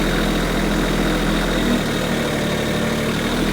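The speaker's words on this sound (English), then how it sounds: "I got the tractor at pretty much idle right now, so hydraulics aren't going super quick." A Kioti CS2220 compact tractor engine drones steadily at idle, loud, low and even with a faint vibrating rumble and no voices.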